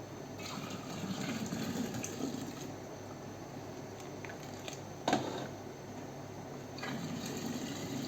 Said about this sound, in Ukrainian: Беремо і розливаємо по слоїках.